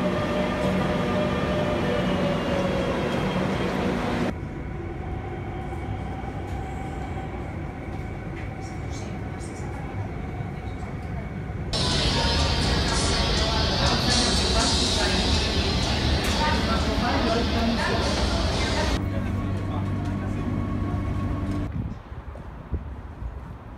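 Rumbling Madrid metro train noise throughout, shifting in intensity as the carriages run and brake, with a steady mechanical hum and some voices in the background.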